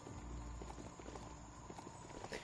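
Hooves of a mechanical horse mount gallop in a fast, steady clip-clop in the video game Biomutant, faint under a busy background of game sound.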